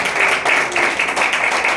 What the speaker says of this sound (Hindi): जो ताली बजा के परमेश्वर का धन्यवाद करो।